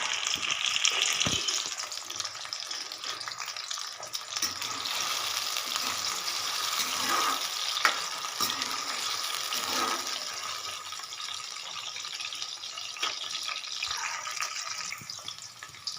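Okra pieces frying in hot oil give a steady, loud hiss and sizzle that runs unbroken, with no one talking.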